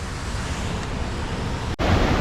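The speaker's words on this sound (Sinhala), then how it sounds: "ඇහෙනවත් දන්නේ නැහැ ඔයාලට සද්දේ. පුදුමාකාර ජල කඳක් අද වැටෙන්නේ පහළට." A steady, dense roar of falling water fills the whole clip, loud and constant, with only a brief dip near the end.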